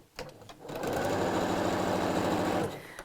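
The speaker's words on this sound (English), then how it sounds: "I'm going to sew those right sides together straight across the top." A domestic sewing machine runs a steady straight seam across the top of a tote bag, joining lining and panel right sides together; a close, even whirring of rapid stitches lasts about two seconds after a brief start, with no talk.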